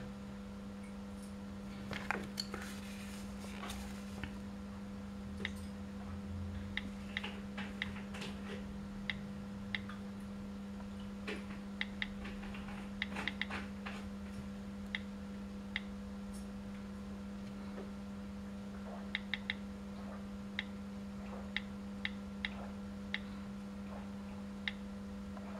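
Soft iPhone keyboard clicks come in irregular scattered bursts while a location is typed into Here Maps, faint over a constant low electrical hum, with no talking.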